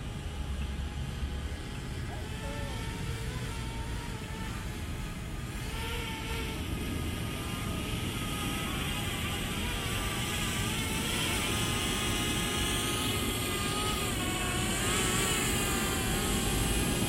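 A small camera drone hovers and slowly descends, its propellers giving a steady, loud, even whine throughout with slight shifts in pitch as it moves.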